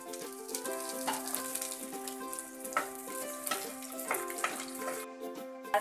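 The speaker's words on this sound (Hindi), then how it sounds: "तो तलने के बाद जो तेल बचा था इसी में हम अपने मटर तलेंगे" Green peas fry in oil left over from frying paneer for matar paneer, giving a steady, close crackling sizzle with a faint tonal hum underneath and no talking.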